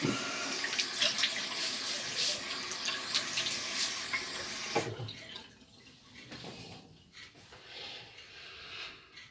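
Water runs from a tap, splashing and wetting a head before a shave, loud and close for about five seconds, then stopping and leaving faint drips and dabbing sounds.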